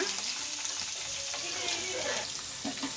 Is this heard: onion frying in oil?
yes